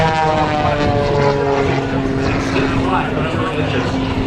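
Stunt propeller plane flying aerobatics at a Florida air show, its engine drone loud and steady throughout with a shifting pitch as it maneuvers, under a faint background of crowd or announcer noise.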